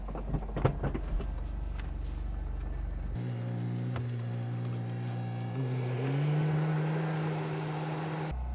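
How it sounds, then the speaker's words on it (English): The electric folding hardtop of a 2010 Ferrari California convertible whirs as it opens, a steady mechanical hum running over several seconds behind the idling engine. "And I'll open the roof."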